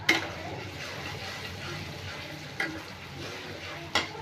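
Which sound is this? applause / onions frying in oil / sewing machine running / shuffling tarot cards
onions frying in oil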